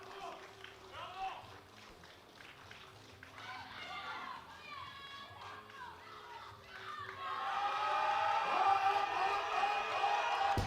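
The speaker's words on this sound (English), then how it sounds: "Norwegians are on their feet and cheering" Spectators at a European classic powerlifting championship cheering during a deadlift attempt, crowd shouts and voices building from scattered calls into a loud sustained roar toward the end.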